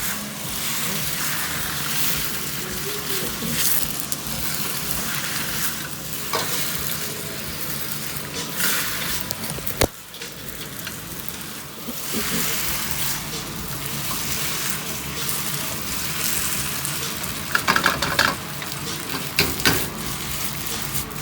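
Wet hawker-style rice noodles stir-frying in oil in a hot pan: a loud, continuous sizzling hiss with repeated tossing and scraping surges, close and dense from start to finish.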